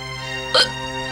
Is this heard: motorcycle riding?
no